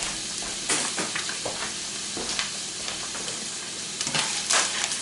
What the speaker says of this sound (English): We're basically going to take that, saute that in there.